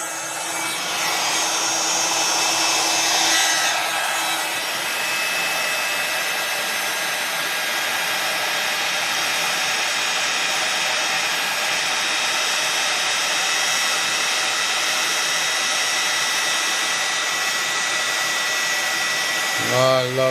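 Heat tool blowing and melting craft material in an art journal, a steady close whooshing roar like a hair dryer that holds level throughout before cutting off abruptly at the end.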